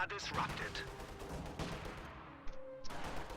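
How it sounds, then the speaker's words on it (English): Heavy mortar fire in a real-time strategy video game, sharp thudding shots and battle noise over a couple of seconds, with a commentator talking throughout. "Heavy mortar pounding away at Grenadiers there."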